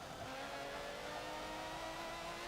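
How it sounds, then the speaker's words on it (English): V12 race car engine in Forza Motorsport 7, a continuous high, steady drone with tonal harmonics held at constant pitch, loud and alone. "it is obviously a 12-cylinder engine, though it's a V12 rather than a flat 12"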